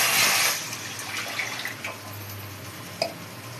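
Water pours and splashes into a pot or pressure cooker while sambar with dal is prepared, a soft gush that fades into quiet dripping with a small clink near the end.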